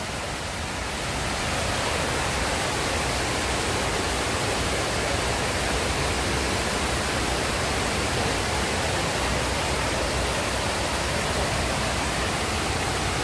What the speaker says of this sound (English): We can see the waterfalls cascading.